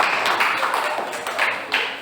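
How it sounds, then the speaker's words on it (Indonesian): A group claps after a school class performance, with soft, moderate applause lasting a couple of seconds. "Ya, tepuk tangan."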